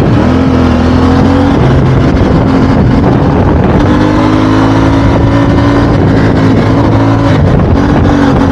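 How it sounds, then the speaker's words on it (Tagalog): A CFMoto 450MT motorcycle engine accelerates up through the gears, a loud, steady engine drone with rising and falling pitch and clear shift breaks, heard close and alone with no talk. "gusto nating isagad yung lakas nitong motor na to"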